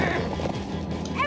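Horses in Minecraft: Story Mode give a brief whinny amid game sounds and background music, with faint hoof clatter, the whole burst lasting just over a second.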